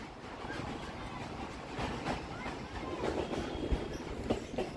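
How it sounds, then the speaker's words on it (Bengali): Local and express trains run side by side toward Howrah on the Sealdah–Howrah chord line, a continuous rumbling roll with clattering wheel rhythm and faint squeals, heard from close by aboard a moving train. "লোকাল আর এক্সপ্রেস পাশাপাশি দৌড়চ্ছে হাওড়ার দিকে"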